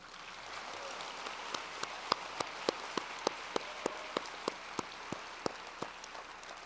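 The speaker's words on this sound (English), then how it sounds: "join me in giving a round of applause to thank all three of our speakers tonight" At a university lecture, a lone set of evenly spaced handclaps beats out a slow, regular rhythm, faint against a soft background hush of the hall.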